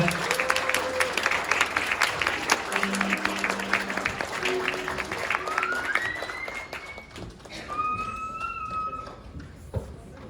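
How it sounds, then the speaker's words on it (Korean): Wedding guests at a ceremony hall applaud the bride and groom, a loud, dense burst of many hands that thins toward the end, with music or sustained tones rising through and a voice briefly audible. "신랑 신부 내민으로 길 인사 축복의 박수 부탁드립니다"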